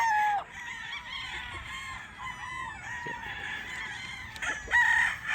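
A Golden Monkey Sweater gamefowl rooster, a light-colored, pea-combed bird from a Jean Batya bloodline, crows loudly and close by in repeated drawn-out calls over a soft farmyard background.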